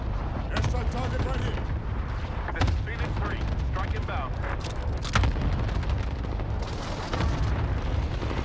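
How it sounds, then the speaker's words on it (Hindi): Airstrike explosions and heavy gunfire boom through a Warzone battle royale match, a dense continuous roar of blasts and shots with sharp bursts throughout. "Airstrike target right here this is Phoenix 3 strike inbound"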